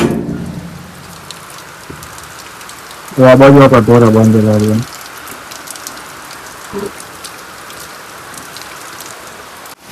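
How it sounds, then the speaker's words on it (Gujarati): Steady rain patters on a surface throughout, a continuous hiss, while someone speaks briefly in the middle, loud over the rain. "હા બહુ વરસાદ વધ્યો છે"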